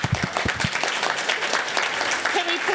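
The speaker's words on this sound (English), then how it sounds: "A round of applause for Jaden." An audience applauds at a school board meeting, a brief burst of clapping from a crowd in a meeting room, with a few voices audible over it.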